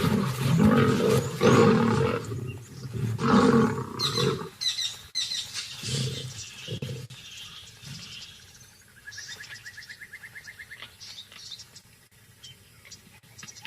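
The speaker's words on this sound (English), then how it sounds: "The brothers have had enough and take out their frustration on each other." Male lions fighting each other, with loud, harsh roars and snarls in bursts over the first few seconds, then scuffling, lighter growls and thinner sounds fading into quieter background.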